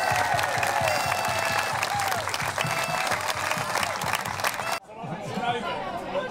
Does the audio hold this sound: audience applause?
yes